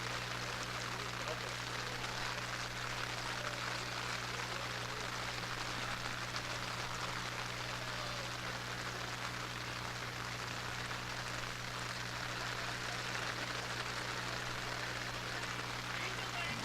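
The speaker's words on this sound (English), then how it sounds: "We're going to have a rain delay." Steady rain hissing down over an outdoor boys varsity high school baseball field, a dense broadband wash that holds constant throughout, with a low hum underneath and voices faint in the background.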